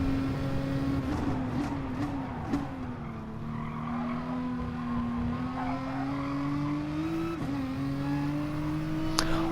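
A Nissan race car in a racing game holds a steady engine drone at near-constant revs, with slight dips at gear changes and brief tyre squeal, heard close and alone.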